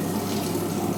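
Water pours steadily into a free vortex apparatus in a fluid mechanics lab, a continuous close rushing flow like a running tap filling a basin, with no talk.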